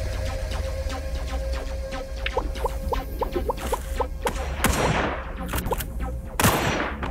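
Sniper rifle shots ring out at birds in the Sausage Man mobile game, a series of sharp rapid cracks and clicks followed by two louder isolated blasts, over steady game background noise.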